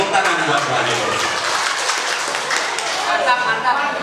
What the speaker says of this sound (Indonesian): Tepuk tangan buat Bu Aderosi